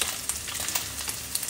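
Chicken fries in a pan with green curry paste for Thai green curry, giving a steady bright sizzle dotted with small crackles and pops, close and alone.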